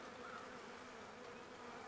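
Honey bees buzzing around an open hive during an inspection, a steady faint swarm hum with no voices, continuous and even across the brief moment.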